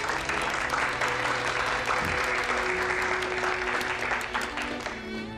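A reading club audience applauds a student as he is introduced, producing dense, steady clapping throughout that thins slightly toward the end, with faint voices mixed in.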